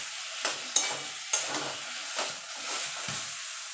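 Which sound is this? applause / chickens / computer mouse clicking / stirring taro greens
stirring taro greens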